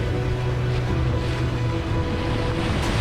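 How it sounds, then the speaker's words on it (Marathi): Sea waves wash steadily around a small boat off the coast near Nivati Lighthouse in Malvan, a continuous broad rush with a low rumble and some wind, with no voices. "समुद्राच्या लाटा आमच्या बोटीला एकसारखं हलवत होत्या"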